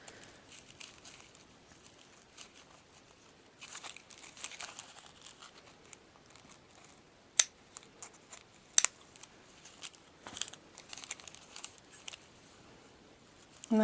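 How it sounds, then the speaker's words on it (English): Quiet snipping and crinkling as Ginger scissors cut through fourteen layers of paper, with irregular cuts and a couple of sharp clicks, close and soft, no voices. "which are amazing scissors, and it cuts through all these layers"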